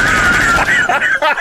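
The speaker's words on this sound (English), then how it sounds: "He didn't shoot that dude with that fucking machine gun, did he?" Rapid machine-gun fire rattles in a continuous burst from a film soundtrack, loud and dense throughout, with a voice briefly mixed in.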